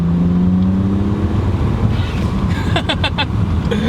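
A 500 hp BMW 335i with the N54 engine cruises at speed with the window and sunroof cracked, a continuous engine drone mixed with wind rush, and a brief voice near the end.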